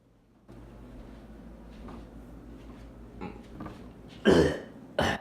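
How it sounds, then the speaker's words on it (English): A couple of sharp, close coughs burst out near the end after a stretch of quiet room noise with faint knocks. "Sorry, coughing there."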